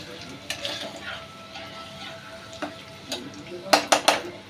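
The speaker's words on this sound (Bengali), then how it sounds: "নেড়ে নেব ভালো করে।" Chopped ginger and garlic sizzle softly in hot oil while a utensil stirs them, with several sharp metallic scrapes and clinks against the pan toward the end.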